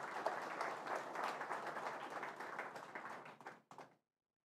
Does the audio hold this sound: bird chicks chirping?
no